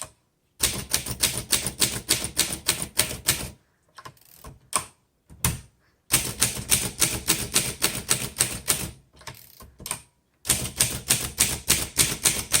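Rapid clacking keystrokes of a 1939 Underwood Universal manual typewriter come in bursts, broken by short pauses and softer mechanical clicks, close and crisp.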